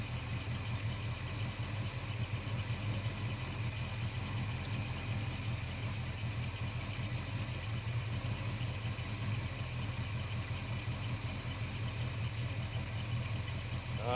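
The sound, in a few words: Holden HK car engine idling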